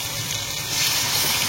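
Water poured into a pot of prawn curry on the stove, a short gushing splash that grows louder toward the end.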